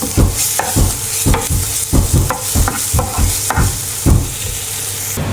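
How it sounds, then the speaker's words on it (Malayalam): Mushroom and potato curry is stirred in a hot frying pan, with a steady sizzle under repeated scraping strokes about every half second, close and loud, with no talking. "ഇളക്കി കൊടുക്കാം."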